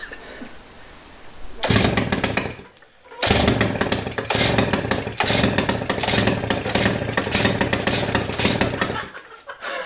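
A small two-stroke engine on a 1955 DKW Hobby revs loudly and raggedly, dropping out briefly after a quiet start, then buzzing steadily with repeated throttle surges.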